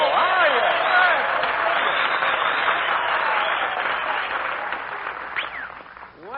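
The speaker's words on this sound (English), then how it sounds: "did you hear that ovation, Mary?" Studio audience gives a sustained ovation on a radio-style comedy show, with dense clapping at close range and voices briefly heard over it near the end.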